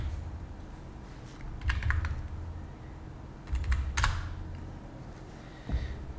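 Someone types a password on a computer keyboard, with short bursts of quick, close keystrokes separated by pauses and a faint background hiss.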